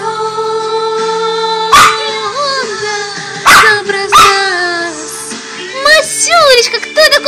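A dog howls and whimpers along to a Russian pop song, with rising and falling wavering cries over the music while someone talks to it.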